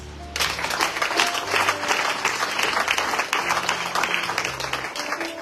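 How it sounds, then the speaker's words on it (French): A church congregation bursts into loud, sustained applause that starts suddenly and continues as a dense crowd of clapping hands, with faint voices mixed in. "On acclame le Seigneur."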